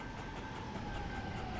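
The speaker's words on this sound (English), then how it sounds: "That's a passenger train doing 180 miles an hour." A passenger train in Transport Fever 2 rushes past at high speed, a dense continuous rumble and hiss with a faint tonal whine, loud and close throughout with no talking.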